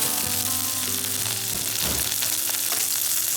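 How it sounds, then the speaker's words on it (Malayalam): Dried red chillies, curry leaves and shallots are tossed into hot coconut oil and fry with a loud, dense, close sizzle, with a brief stirring scrape partway through. No one speaks. "വറ്റൽമുളക് ഇടുന്നു, കരിവേപ്പില ഉള്ളിയും കൂടി ഇടുന്നേ."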